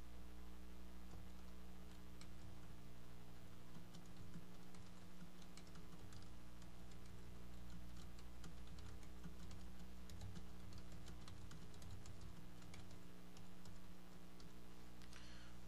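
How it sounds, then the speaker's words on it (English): Rapid clicking of keys on a computer keyboard, continuous and irregular, faint and close, with a low steady hum underneath. "I'm going to start typing here now."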